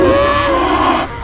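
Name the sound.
cartoon cow and buffalo screaming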